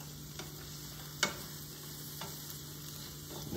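Garlic stirred into shallots, onion and celery sizzling in a pan gives a faint, steady frying hiss with a few soft scraping stirs.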